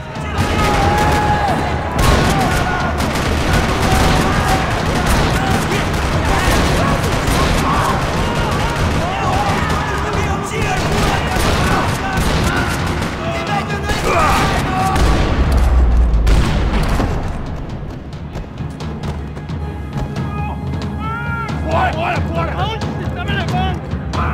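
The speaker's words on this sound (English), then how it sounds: "Parking lot rattling with gunfire." Dense, continuous gunfire rattles and booms across a parking lot, loud and chaotic, with voices shouting underneath.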